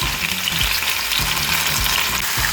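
Bell peppers, onions and other vegetables sizzle loudly in olive oil in a hot pan, a dense continuous crackle with periodic stirring scrapes, close and without speech.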